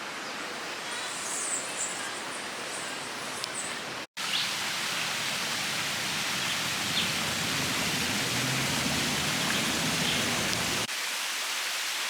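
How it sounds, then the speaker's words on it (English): Soft river water flows steadily along Rio Mameyes in the Luquillo rainforest of El Yunque, Puerto Rico, a broad even rush heard up close, briefly cut by a short dropout, with faint bird notes near the start. "lots of little spots to hang out, soft flowing water."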